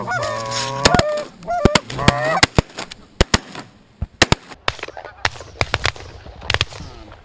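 Geese honk loudly overhead during a goose hunt, a burst of harsh calls followed by a volley of sharp shotgun blasts in quick, irregular succession outdoors.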